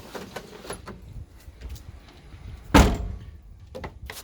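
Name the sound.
Mazda B2200 mini truck door closing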